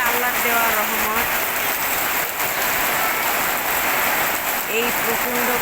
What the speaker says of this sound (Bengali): এই প্রচণ্ড গরমে মানুষকে শান্তি দিচ্ছে বৃষ্টিটা এসে।